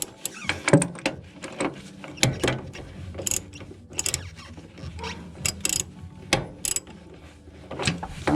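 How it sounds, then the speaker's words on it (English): An open-end crescent wrench loosening a front shock nut on a VW bus, producing rapid ratchety metallic clicks and clanks in uneven bursts, close by and moderately quiet, with no voices. "So I put an open-end crescent wrench over there, and let's see, yep, it's coming."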